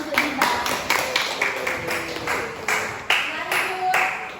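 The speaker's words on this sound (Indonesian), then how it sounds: "Beri tepuk tangan untuk Diba." A classroom of students applauding for a classmate named Diba, steady rhythmic clapping from a group nearby, lasting a few seconds with overlapping voices.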